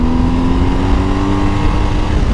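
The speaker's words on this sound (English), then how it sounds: "I'm gonna go accelerate and brake, all in the turn." Motorcycle engine held at steady revs through a wide left-hand sweeping turn on a road while the rider modulates throttle and brakes mid-corner, a continuous close drone with wind noise and no talking.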